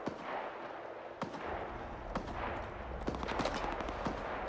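Distant gunfire from an enemy fight in Stalker 2, scattered sharp shots and short bursts crackling over a steady low rumble of wind and ambience, never very close.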